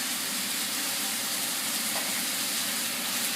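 Kale thrown into a hot skillet gives a steady, bright sizzling hiss that runs unbroken for a few seconds, fairly close and even in level, with no talking.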